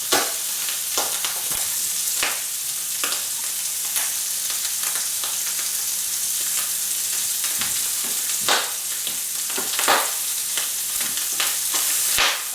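Eel sizzles steadily as it fries in a pan on the stove, a continuous close crackle broken by sharp pops and spits scattered throughout, with no talking.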